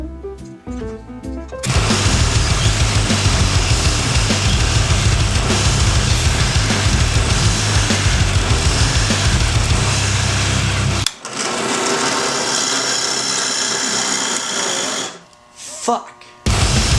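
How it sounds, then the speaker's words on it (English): A power drill bores a long run of holes through a wooden stand board for a homemade camera holder, a loud, steady whine that cuts out briefly near the end and then starts again. "Alright, we have a shit ton of holes to drill."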